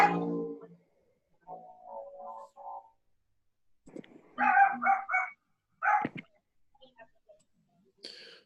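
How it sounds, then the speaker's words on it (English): A dog barks in short bursts during an online group meeting, several sharp yips and barks spaced across the clip, fairly distant and without talking. "Whoever has a dog barking, mute your thing."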